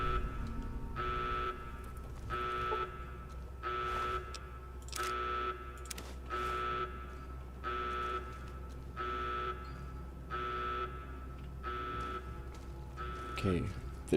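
A repeating in-game alarm from a Fallout: New Vegas–style Mojave building's top floor, pulsing in steady on-off bursts about once a second, loud and continuous under a low hum.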